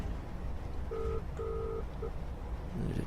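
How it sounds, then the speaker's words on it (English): A train cab telephone in Train Simulator 2016 sounds three short dialing tones, two longer beeps and a brief blip, fairly quiet over a steady rushing background hum. "you could possibly pick the phone up,"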